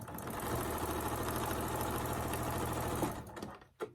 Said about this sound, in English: And I'm going to sew this down.